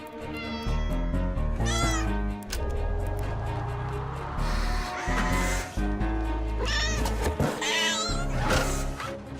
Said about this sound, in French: Rattrapons le chat qui s'échappe.